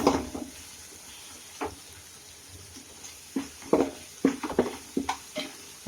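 Ginger garlic paste sautés in a pan for mutton biryani: a spatula scrapes and stirs in irregular clusters of clinks over a faint, low background sizzle.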